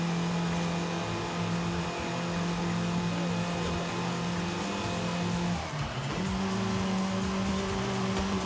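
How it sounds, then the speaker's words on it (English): A Ferrari V8 drones steadily at high revs in Forza Horizon 5, the engine holding a sustained tone with a brief dip and shift partway through, loud and close with no talking. "Ferrari V8 does sound very nice."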